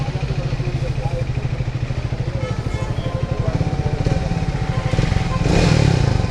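A motorcycle engine idles with a steady rapid throb, then revs up louder near the end; a voice speaks briefly over it.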